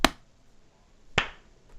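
A group claps hands on a count, giving two sharp separate clap transients about a second apart, close and crisp against a quiet room.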